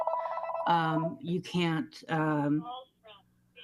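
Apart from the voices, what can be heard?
mobile phone ringing during council meeting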